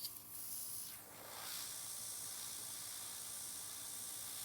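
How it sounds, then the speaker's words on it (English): An airbrush sprays a steady hiss of air while nail polish goes on during an air nails workshop, rising in a brief swell near the start and then holding as a continuous, fairly faint spray. "And I'm spraying on the top."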